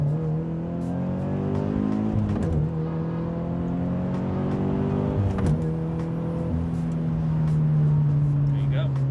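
A Toyota GR86 with an MXP Comp RS exhaust and aftermarket front pipe revs through several pulls, a deep droning engine note rising in pitch with sharp breaks between gears, and a voice occasionally heard under it.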